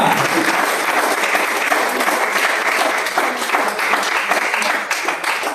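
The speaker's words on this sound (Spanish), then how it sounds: "Denle un fuerte aplauso al que vive para siempre" A church congregation bursts into strong, sustained applause for several seconds, a thick wall of clapping at close range that stays loud without letup.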